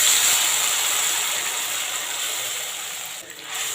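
Paste of onion, ginger, garlic and chili hits hot oil while making potato kofta curry, giving a loud, steady, hissing sizzle that fades slightly near the end, with no voices.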